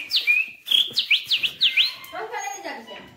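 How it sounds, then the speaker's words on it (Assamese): Myna birds call nearby in a village, with a quick series of sharp, rising chirps followed by lower, rougher calls and faint background murmur. "এইটো শালিকা এইটো শালিকাতে মাতি আছে"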